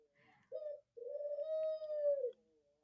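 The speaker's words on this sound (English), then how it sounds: "He's cooing now." A pet dove coos in a few soft, drawn-out calls: one short note, then a longer sustained coo swelling near the microphone, with no talking over it.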